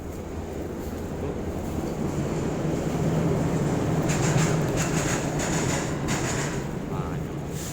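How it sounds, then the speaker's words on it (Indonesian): A train crosses a railway bridge directly overhead, heard from underneath as a sustained low rumble with rhythmic clattering that builds through the middle, under a steady ambient roar. "Wah, suara kereta bro di atas tuh."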